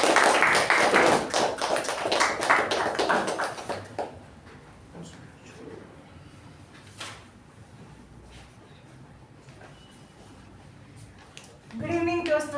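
Audience at a Toastmasters club meeting applauding to welcome the Toastmaster: a dense burst of clapping for about four seconds that dies away into a quiet room, then a voice begins speaking near the end.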